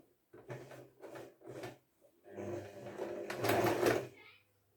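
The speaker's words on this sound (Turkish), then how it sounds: "Buradan şu overlock'un dikişinin üstünden şöyle çepeçevre bir dikiş atıyorum." A sewing machine runs a stitch all the way around a cloth bag, over the overlocked seam. It sounds in several short, close bursts of a second or less, building to a longer, louder run near the end.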